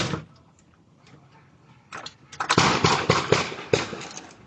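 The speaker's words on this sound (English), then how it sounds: "A doorbell camera captured part of the gunfire." Gunfire recorded by a doorbell camera: a burst of sharp, rapid cracks rings out after a quiet stretch, several loud reports in quick succession with a few quieter pops before them.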